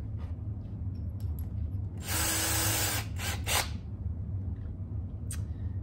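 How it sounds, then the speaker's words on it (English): A power drill fitted with a new bit briefly bores into a carrot that is being made into a clarinet. About a second of whirring, grinding drilling rises over a steady low hum, followed by a few faint taps. "Change out my bits on the drill."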